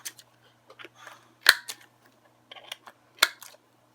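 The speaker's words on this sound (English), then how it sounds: "round all the corners on this." A corner rounder punch rounds the corners of paper planner pages, giving several sharp, close snapping clicks spaced unevenly apart, with faint handling and paper rustles between them.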